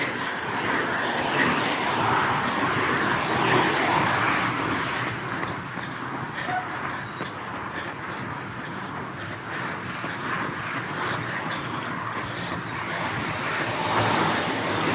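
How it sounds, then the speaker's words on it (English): A steady roadside wash of cars passing on a road, heard outdoors during a run, with no single pass standing out. Birds and a dog may sit faintly in the mix, and some speech-like sound runs beneath. "Unfortunately for me, I mostly heard cars."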